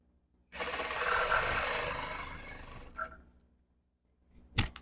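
Sewing machine running a plain straight stitch along a salwar seam: one sustained whirring burst of about two seconds, then a brief clack and a short thump.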